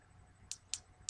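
Three sharp, loud clicks from the stiff button of a Vaprlife Diamante vaporizer, spaced unevenly and close to the mic against a quiet background.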